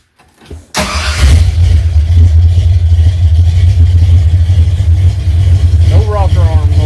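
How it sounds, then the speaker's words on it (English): A small block engine fitted with big block rocker arms cranks and fires up, then settles into a loud, steady, rumbling idle close by, with a brief voice near the end. "I think I'm ready to start this thing up."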